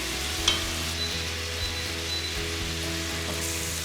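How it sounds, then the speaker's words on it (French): Shrimp searing in a hot cocotte, a dense continuous sizzle over a steady low hum, with one brief clink early on, no talking. "on fait chauffer et on va faire juste saisir les crevettes en premier"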